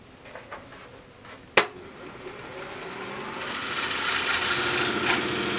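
A Korpro coring tool bites into wood, starting with a sharp knock and then a steady, close rasping grind that builds and holds.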